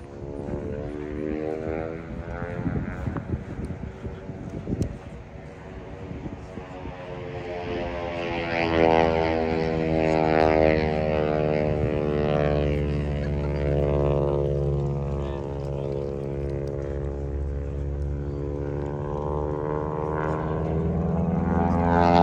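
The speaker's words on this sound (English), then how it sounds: "Is the biplane doing stunts?" Propeller biplane performing aerobatic stunts at the Oshkosh 2023 airshow, its engine droning loudly overhead with a rising and falling pitch as it climbs and turns, growing steadily louder toward the end.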